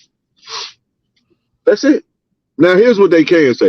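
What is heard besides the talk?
sneeze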